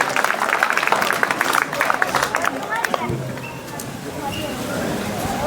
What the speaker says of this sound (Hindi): एक बार जोरदार तालियां आरजू के लिए